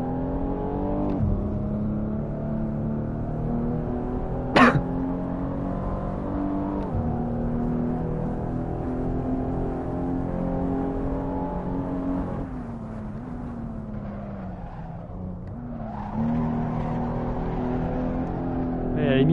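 A Maserati SUV engine drones and revs while drifting in the racing game Assetto Corsa, holding a steady, close, tonal hum with a sharp spike near five seconds and dips and climbs in pitch as the throttle shifts.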